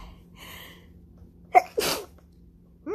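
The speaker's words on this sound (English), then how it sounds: "I don't sneeze as much, but I do still sneeze even though I'm taking my medicine." A single sharp human sneeze, preceded by a quick intake of breath, loud and close in an otherwise quiet room.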